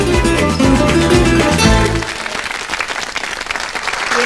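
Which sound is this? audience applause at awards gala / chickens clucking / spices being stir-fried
audience applause at awards gala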